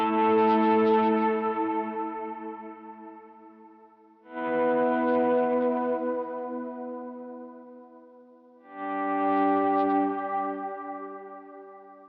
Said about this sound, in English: My super ambient patch, like my swell, which sounds like this.